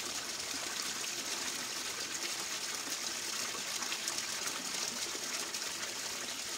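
Water rushes and splashes steadily through a gold sluice mat set up high while gold-bearing dirt is run, a close, continuous broadband wash with no pauses.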